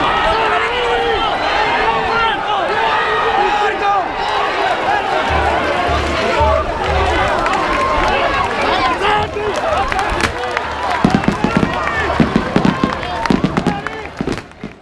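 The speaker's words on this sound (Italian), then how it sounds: "I botti annunziano ai paesi vicini il lieto evento." Firecrackers bang in rapid, crackling bursts at an outdoor religious festival procession honoring Christ, loud and continuous for the whole stretch, with a noisy crowd murmuring underneath and sharper clustered pops near the end.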